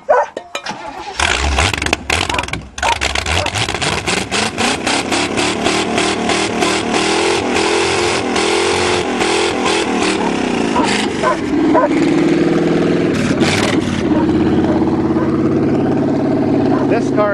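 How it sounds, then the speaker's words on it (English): A car engine, a Chevrolet without a rev limiter on a farm field, cranks, catches and revs hard and loud, with rough sputtering surges and people shouting over it. "This car doesn't have a rev limiter, so don't rev it too high."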